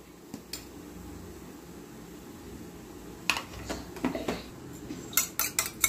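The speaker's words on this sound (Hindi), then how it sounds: "अंडे को अच्छे से फेंट लेंगे।" A single egg is whisked for an omelette, a utensil beating against a bowl in quick, sharp clinking bursts that start sparse and grow into a rapid rhythmic run, close over faint background hiss.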